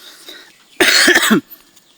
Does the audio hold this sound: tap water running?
no